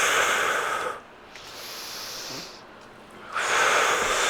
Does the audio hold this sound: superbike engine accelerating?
no